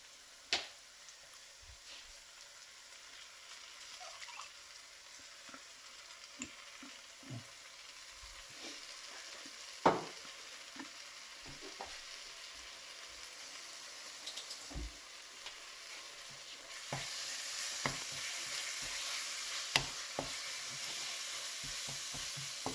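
Ginger garlic paste fries with browned onions for chicken kosha, a soft steady sizzle punctuated by occasional spatula taps and scrapes, the frying growing louder toward the end.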